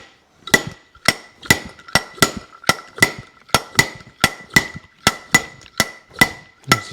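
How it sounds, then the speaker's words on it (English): A slide hammer on a mandrel pulls a wheel bearing from a Kawasaki F7 motorcycle wheel, giving about fifteen sharp metallic impacts in a steady rhythm, each with a short ringing tail, loud and close with no talking. "You screw in the appropriate sized mandrel there, and then you slide a slide hammer on it."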